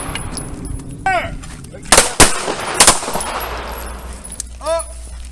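Pistol shots crack out at an outdoor shooting range: two loud bursts of closely spaced reports, then another pair, with chirping birds and faint background chatter between them.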